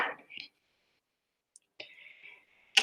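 A knife slices through an apple to show its seeds: a few faint clicks, then a soft, steady crisp cutting sound lasting under a second, ending in a sharp snap as the blade comes through. The setting is quiet, with no talking.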